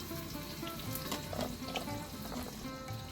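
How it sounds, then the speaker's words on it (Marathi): Chopped onion fries in hot oil for a village-style chicken methi, a soft, continuous sizzle with crackling pops at moderate distance, fairly quiet and alone. "तेल आपलं छानपैकी गरम झालेलं आहे। आता आपण हा पहिल्या सर्वात आधी आपण कांदा याच्यामध्ये घालणार आहे।"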